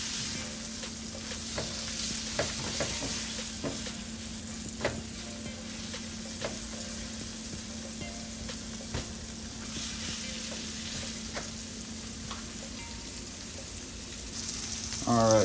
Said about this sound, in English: I'm just going to go ahead and sear these, cook these out.